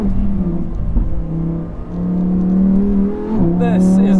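A Lamborghini Huracan Tecnica engine revs hard under load, a loud, steady roar that dips briefly mid-way, then climbs again in pitch as the car is pushed, with a voice talking over it.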